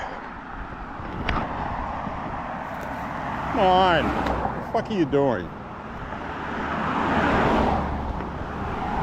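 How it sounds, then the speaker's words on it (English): A car approaches along a road and swells into a broad roar as it passes close by a walker on a street in Maine, then fades, while someone speaks loudly over it. "Car coming here."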